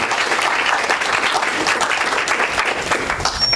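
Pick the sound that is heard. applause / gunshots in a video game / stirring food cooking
applause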